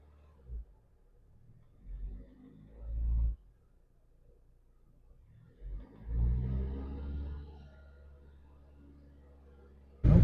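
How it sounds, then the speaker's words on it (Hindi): A Tata Safari diesel engine with over 107,000 km, starting late and running heavy and smoky, cranks and catches in two attempts, each rising into a loud low rumble and rev before dying away, with a sharp bang at the end. "अब मैं गाड़ी स्टार्ट करके दिखाता हूँ"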